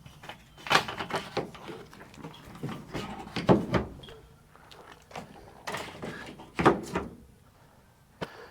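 The clamps of a truck bed tonneau cover are fastened with a series of close, uneven metallic clunks, clicks and ratcheting rattles, with short pauses between bursts.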